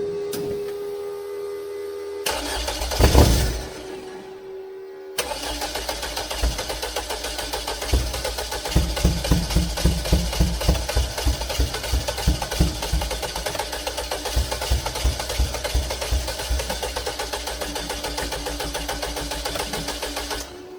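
A diesel engine with a replaced injector cranks in a no-start attempt: a brief burst, then sustained rhythmic starter churning with regular pulses that keeps on without catching.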